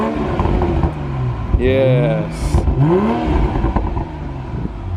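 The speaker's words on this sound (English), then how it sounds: "Just give it a few revs." A 2020 Toyota Supra sports car engine is revved in short blips, its pitch climbing and falling twice over a steady idle rumble, heard nearby with people talking over it.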